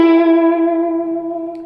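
A single sustained electric guitar note from a solo rings out with chorus-like effects and reverb, steady and close, slowly decaying with no talk.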